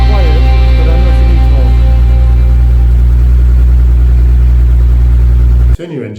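A Bentley Continental GT engine idles steadily with a loud, deep, even hum and harmonic drone that holds for almost six seconds, then cuts off abruptly into near silence, while a voice talks over it early on.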